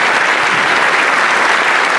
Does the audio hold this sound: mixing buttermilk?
no